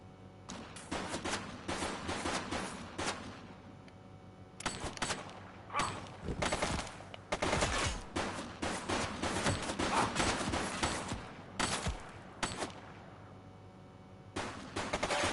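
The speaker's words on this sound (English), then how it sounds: "She's shooting!" Bursts of video game gunfire in a police precinct shootout, dense overlapping shots and rapid volleys filling most of the stretch with short gaps, loud and close.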